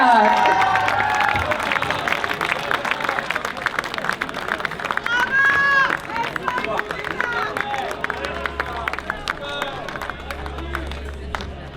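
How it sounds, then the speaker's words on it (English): Audience at a charity gala applauding and cheering steadily over the whole stretch, a broad wash of clapping with a host's amplified voice speaking over it. "A big round of applause, please, for Nikita and"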